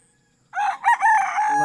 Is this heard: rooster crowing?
yes